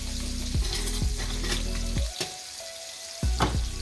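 Steady sizzling of scallops searing in a hot pan, with a few soft thumps and clinks as each scallop is set down one at a time.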